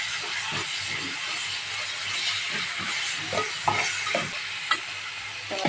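Chopped onion, green chillies and tomatoes sauté in a pan for restaurant-style pav bhaji, a steady close sizzle with repeated scraping stirs and small clanks from the spatula against the pan, no talking.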